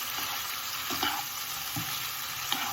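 Garlic sizzles in hot oil in a pan with a soft, continuous frying hiss and a few light stirring clunks, close by and steady with no voices.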